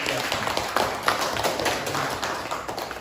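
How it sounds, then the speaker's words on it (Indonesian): A classroom of students claps for a group, a brisk uneven patter of many hands close by, steady for a few seconds. "berikan aplaus untuk kelompok"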